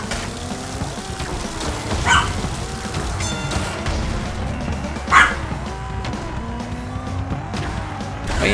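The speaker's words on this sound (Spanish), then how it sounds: "Váyanse, perros, no me distraigan." Two short dog barks ring out a few seconds apart over a constant kart engine rumble and game-like background noise in Crash Team Racing Nitro-Fueled.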